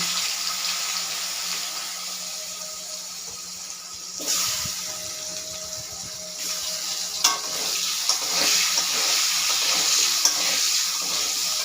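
Tempering spices hit hot oil in a pan for a thin fish curry with potatoes and pointed gourd, and a steady sizzle rises with a surge partway through. Scattered clinks and crackles follow, close by with no voices.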